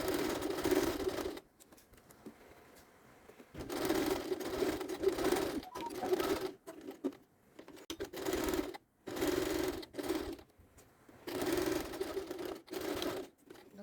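A sewing machine stitches one side of a glasses case lining in several short bursts of rapid whirring, with quiet pauses between runs as the fabric is repositioned.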